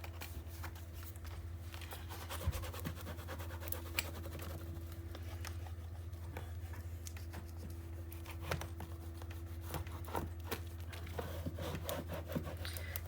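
Glued cardstock on a 9x9 mini album page being burnished, heard as quiet, continuous rubbing and scraping strokes over a steady low electrical hum.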